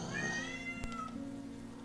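A cat lets out a drawn-out meow, close and fairly clear, followed by a brief quieter sound over low background noise.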